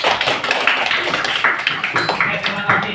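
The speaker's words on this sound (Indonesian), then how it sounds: "kita beri tepuk tangan untuk kelompok 5" A classroom of students applauding for a presenting group, steady dense clapping sustained for a few seconds with scattered voices mixed in.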